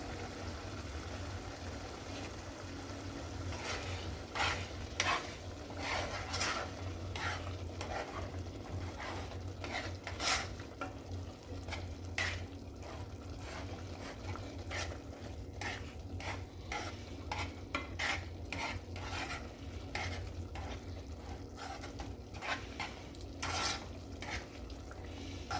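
Meat sizzles steadily in a pan on medium heat for a Mexican-style dinner, a constant frying hiss broken by frequent clicks and scrapes of a utensil stirring against the pan, with no talk.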